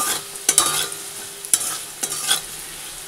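Potatoes frying in a pan, a soft background sizzle with three or four distinct stirring scrapes and clanks of a utensil against the pan, close and fairly loud.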